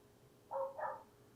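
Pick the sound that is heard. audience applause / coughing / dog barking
dog barking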